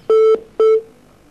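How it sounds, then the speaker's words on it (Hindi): Telephone line disconnected tone after a caller drops from a TV call-in show, two loud steady electronic beeps with a short gap between them, clean and close with nothing else heard. "फोन कट चुका है"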